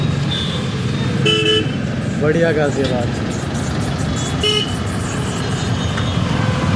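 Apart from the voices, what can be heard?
road traffic with car horns honking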